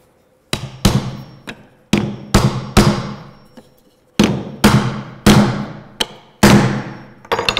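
Sharp hammer blows drive together a tapered sliding dovetail wood joint, about ten loud, ringing strikes in uneven bursts with brief pauses between groups, no talking.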